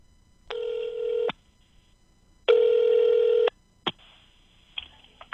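A telephone call being placed, with two long electronic ring tones about a second each separated by a pause, then short clicks and a fainter tone as the line connects, clear and close with no speech.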